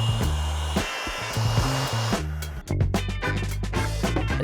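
Air blows dust off a sanded classic van panel during a renovation, a loud continuous close hiss broken by short pulses and bursts of varying strength.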